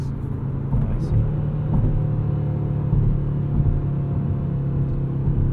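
A 2022 Audi RS 3 engine in RS Performance mode, heard from inside as a steady, heavy low rumble with slight swells, while voices talk faintly over it.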